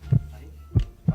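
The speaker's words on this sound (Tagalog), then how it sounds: "ang sagot ng madaling bato ay Heartbeat" Heartbeat, with three deep, muffled low thumps spaced unevenly across about a second over a faint background hum, close and moderately quiet.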